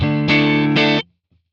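A dry, clean electric guitar through a Nano Cortex with no delay or reverb, two quick bright chord strums that stop abruptly with no tail, close and loud.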